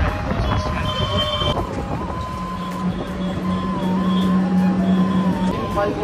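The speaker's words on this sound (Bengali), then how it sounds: "আমাদের ট্রেন ঢুকে গেছে" A train pulling into a railway station at Kulnagar, with a loud continuous rumble, wind buffeting and a sustained high brake squeal drawn out over the final seconds.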